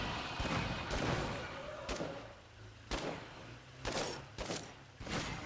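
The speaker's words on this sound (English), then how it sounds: "I'm going to have the snipers take him out" Sniper rifles fire on a zombie in State of Decay 2: several sharp, loud gunshot cracks at irregular intervals, each with a short decay, over a low ambient game rumble.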